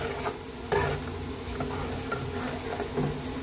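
Spoon stirring a pot of sambar with finely chopped coriander just added, a run of soft scraping and clinking strokes with faint sizzling underneath, close and moderately quiet, no talking.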